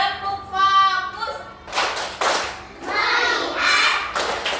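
A class of children performs the tepuk fokus clapping chant, with rhythmic bursts of group handclaps and thumps alternating with chanted voices, fairly close and lively.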